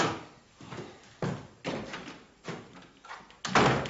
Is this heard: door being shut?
yes